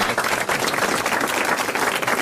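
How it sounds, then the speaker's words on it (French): Brief burst of studio audience applause on a French television game show, steady dense clapping throughout with no speech over it. "Vous allez applaudir monsieur Laclos, qui a bien mérité les grosses têtes."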